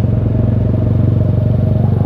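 A custom flat-track Bajaj Pulsar motorcycle engine idling up close, loud and steady with an even, rapid thumping pulse and no talk over it.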